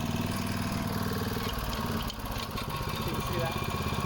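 A Toro Big Red rototiller's small engine runs steadily close by, a loud continuous chugging drone with a brief dip midway before it carries on at the same even pace.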